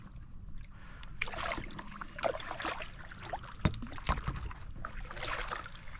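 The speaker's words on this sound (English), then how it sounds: "See if you can paddle good standing up." Paddle strokes on water from a paddleboard: soft, irregular splashes and drips close by, with occasional sharper knocks, alone without talk.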